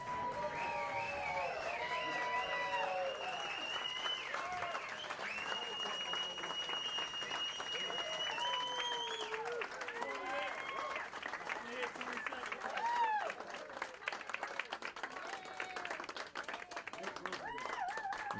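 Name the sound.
audience applause welcoming the newlyweds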